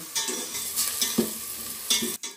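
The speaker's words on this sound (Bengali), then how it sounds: "ঘিয়ের মধ্যে চালগুলোকে একটু ভেজে নেব।" Gobindobhog rice grains frying in hot ghee and being stirred, a steady close sizzle with scraping stir strokes at intervals and no talking.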